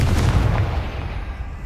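Confringo fire spell explosion in the video game Hogwarts Legacy, a single loud booming blast at the start that rumbles and fades over the next second.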